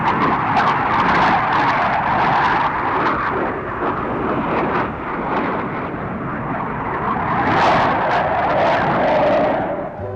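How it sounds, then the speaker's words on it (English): A Royal Air Force Vulcan bomber flies over in salute at the Seychelles independence celebrations. Its loud, rough jet roar rumbles for about ten seconds, swells near the end and fades slightly. "A salute from an RAF Nimrod. And a Royal Air Force Vulcan."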